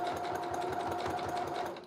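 A sewing machine runs in straight stitch mode along a pant hem, a continuous close, even mechanical hum with rapid needle pulses throughout.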